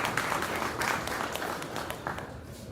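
An audience at a React developers' meetup in Chennai gives a round of applause, a moderate burst of clapping from a roomful of people that tapers off over a couple of seconds.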